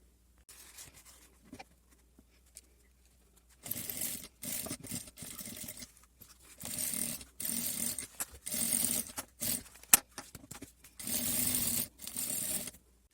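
Sewing machine stitching seams on a waterproof rubberized nylon bag, running in several close rapid bursts of mechanical chatter with short pauses between, after a quieter stretch of handling noises.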